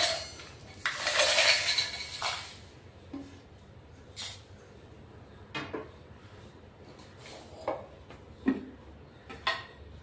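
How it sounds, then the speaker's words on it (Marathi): Cooled masala poured from a pan into a mixer jar, a loud scraping, clattering rush of spice and utensil for about two seconds, followed by sparse clinks and taps of metal vessels nearby. "मसाला थंड झालेला आहे, आपण आता मिक्सरच्या भांड्यात ओतून घेतोय"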